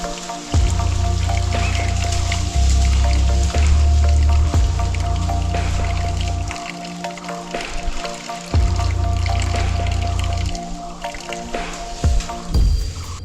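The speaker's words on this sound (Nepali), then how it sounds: "यो ढुङ्गे धाराको कलकल पानी खाएर" Water runs steadily from a traditional stone water spout in Bagmara, Pokhara, a continuous outdoor splashing with heavy low wind rumble and buffeting over it and no talking.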